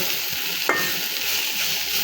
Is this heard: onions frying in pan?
yes